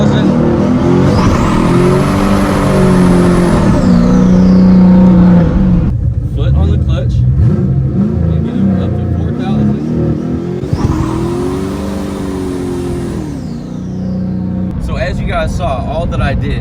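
Manual car engine revved hard to about 4,000 RPM with the clutch held in, two loud rising-and-falling revs with rumbling idle between, close by, with a voice talking over it.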